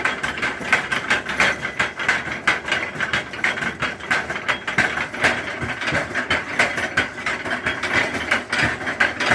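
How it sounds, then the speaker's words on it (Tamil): A blue turmeric-powdering machine pounds away continuously with a dense, rapid, rhythmic clatter, like a mechanical version of hand pounding. The sound is loud and steady throughout, with no voices. "இந்த ப்ளூ கலர் மிஷின் வந்து மஞ்சள் மஞ்சள் பொடிக்கிற மிஷின் இது"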